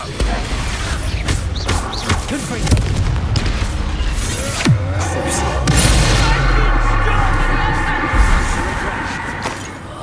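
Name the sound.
Expulso explosive spell blast in Hogwarts Legacy video game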